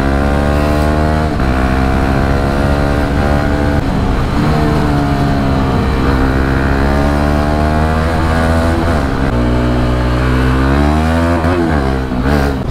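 A Bajaj Dominar 400 motorcycle with a loud exhaust revs hard and close, its throaty note rising and falling in repeated surges over a steady idle.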